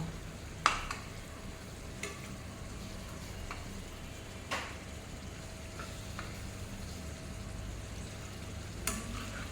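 Spicy hilsa fish curry, made without mustard or poppy seed, sizzles quietly in a pan on low flame while the pieces are turned, with occasional faint clinks of a utensil over the steady frying hiss.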